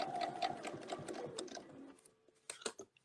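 Sewing machine stitching a quilt seam back down toward the center, a steady close mechanical whir for about two seconds, then pausing into softer scattered handling clicks.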